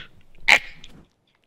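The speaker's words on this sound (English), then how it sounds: "I'm going to sneeze." A single sharp, loud sneeze bursts out close by, followed by a brief breathy trail and then silence.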